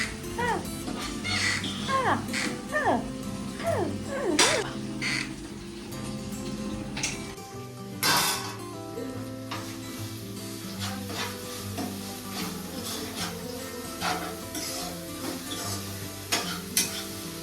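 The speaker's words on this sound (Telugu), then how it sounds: "మనం ఇప్పుడే ఫ్రై చేసుకోవాలి గైస్" Food frying and being stirred in a pan for a home-cooked non-vegetarian dish, a steady sizzle running throughout with scraping stir strokes and clatter, while voices talk over it.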